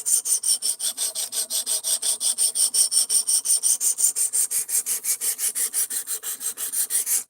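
Work Sharp sharpener working a blade on a 220 grit abrasive, a close, rhythmic back-and-forth rasping of even strokes repeated about four times a second for the whole stretch, with no speech.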